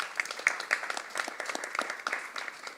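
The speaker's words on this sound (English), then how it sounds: "I want you all to give the commission a big round of applause for engaging young people" A crowd at a Parliamentary Reform Commission session applauds the commission, with distinct individual claps standing out in an even, moderately loud round of clapping.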